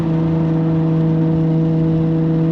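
Nissan GTR engine while driving, a loud, steady droning hum with a constant pitch heard from inside the car, no talk.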